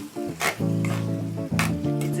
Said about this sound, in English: we're going to add carrots to the mix that's frying away